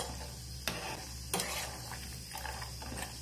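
Peanuts with chana and urad dal being stirred in a pan, a low background hiss broken by a few sharp scraping strokes of the spoon, close and fairly quiet.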